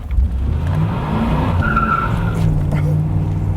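A Chevrolet Camaro Z28 IROC-Z engine roars during a hard launch as tires squeal and skid hard on pavement, loud and close, with a voice speaking briefly over the noise.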